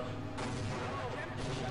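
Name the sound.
explosions in the video game Half-Life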